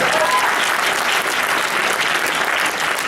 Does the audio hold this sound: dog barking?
no